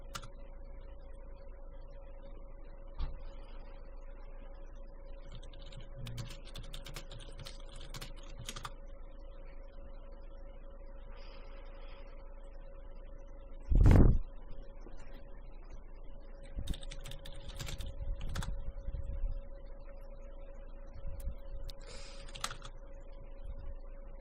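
Quiet, sparse keystrokes on a computer keyboard as chat messages are typed into The Infinite Black game on an emulator, with one louder thump midway and no talk.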